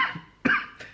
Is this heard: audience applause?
no